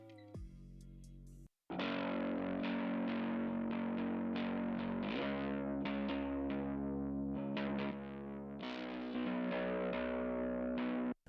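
Heavily distorted guitar-like chords passing through an SSL 4K G channel strip with compression, loud and saturated, played in repeated strummed bursts after a brief cut of silence.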